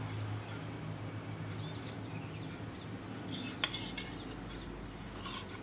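A spoon stirs a kalakand mixture with malai in a pan, making quiet, close scraping and light clinking, with one sharp metallic knock partway through.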